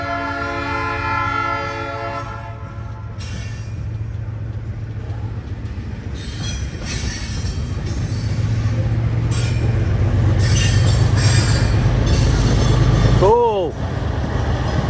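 A heavy CSX freight train rumbles past nearby around a tight curve, its horn blaring at the start, wheels squealing near the end, with steady rolling noise throughout.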